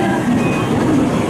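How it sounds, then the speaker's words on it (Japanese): Shinkansen bullet train moving through Tokyo station, a steady mid-loud rolling rumble with faint squeal, no talk over it. "下り線も同じ頻度で新幹線がやってきています"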